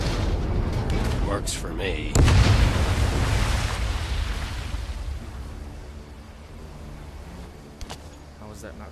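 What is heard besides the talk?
explosion in the video game Medal of Honor: Above and Beyond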